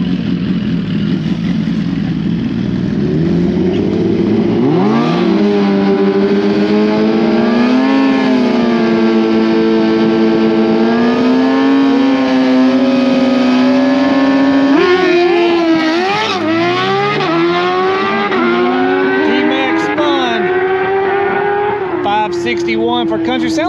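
A drag racing pass between two bikes, likely 2018 Suzuki GSX-R 1000 motorcycles, loud engines revving and climbing steadily in pitch through gear changes for about twenty seconds, with a shift and rerev midway and no talk.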